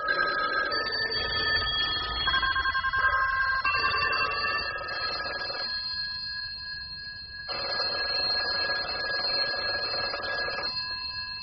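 Telephone ringing in a British radio play, a bright electronic ring repeating in regular bursts with short pauses, loud and close, with no voices over it.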